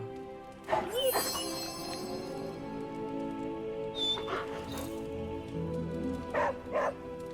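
A dog in the video game Marvel's Midnight Suns barks and yips in a few scattered bursts over a steady hum of game sound, with a voice speaking in between.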